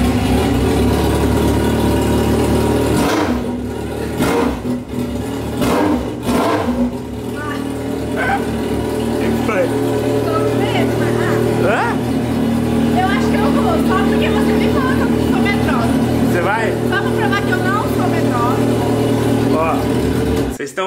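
A Yamaha XJ6 motorcycle idles loudly and close by with a deep, steady rumble. It takes a few quick blips of the throttle early on, while people talk over it throughout.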